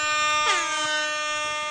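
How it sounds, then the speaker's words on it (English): A rap-style air horn sound effect blares in one sustained, loud blast with a sharp swooping dip in pitch partway through, heard on its own with no talking. "Bringing a rap air horn. I get the last rap air horn in."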